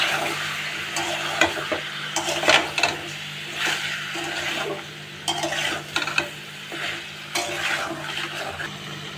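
Potatoes and chicken pieces frying in oil, salted, are stirred vigorously in a pan, producing a loud continuous sizzle broken by repeated scraping and clattering strokes of the spatula, with no voice.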